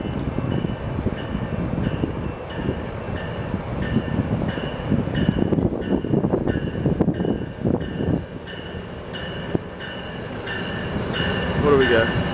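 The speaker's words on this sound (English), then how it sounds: "here comes Metrolink in the Oceanside station" A Metrolink commuter train pulls into Oceanside station, a steady rumbling roll of rail cars with a continuous mid-level clatter and faint wheel noise, growing slightly louder toward the end.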